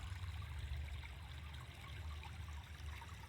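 Water trickling and running steadily outdoors near a small backyard pond or wet area with transplanted cattails, a soft continuous babble close by with no voices.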